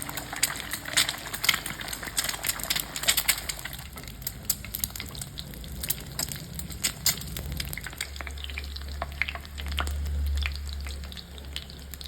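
Steady sizzling and crackling of an egg frying sunny-side up in a hot pan, with popping spatters throughout and a low rumble joining near the end.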